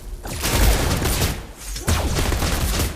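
Gunfire from the Mobile Legends game comes in two dense, loud bursts of rapid shots close up, the first trailing off briefly before the second volley resumes.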